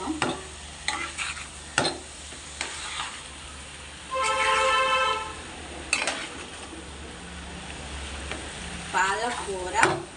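Potato and spinach fry being stirred in a pan after salt is added: scraping stirring strokes over a steady sizzle, with a few sharper clatters and a louder burst of frying midway.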